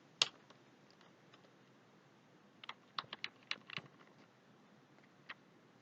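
Keystrokes on a computer keyboard while values are entered: a lone sharp click, then a quick burst of several quiet taps, and one last faint click, close and isolated with no talking.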